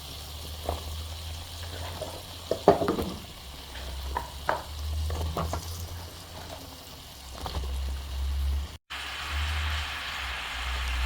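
Mixed vegetables with dried fish sauté in a pan under a soft frying hiss, broken by scattered scraping and clinking stirs.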